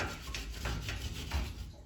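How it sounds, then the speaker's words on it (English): A wire brush scrubs sediment inside an IBC boiler, making repeated close rasping strokes in a steady back-and-forth rhythm, with no talk. "take a wire brush and just kind of clean up all those little sediments all around there"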